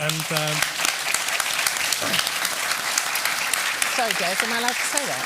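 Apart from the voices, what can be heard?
audience applause for conference panelists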